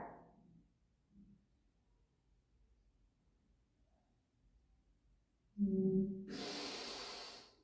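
During a hypopressive exercise, a soft breath is heard at the start, followed by a long quiet stretch, then a sudden loud, rushing exhalation near the end.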